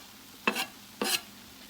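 Two quick scraping stirs of a spoon through a corned beef filling with fresh cilantro in a pan on a switched-off stove, soft and close with a faint sizzle, no talk.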